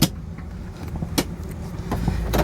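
A 1967 Pontiac GTO convertible with a 400 four-barrel engine and Turbo 400 transmission idles in a low, steady rumble, close by, with a few faint clicks and knocks over the running engine.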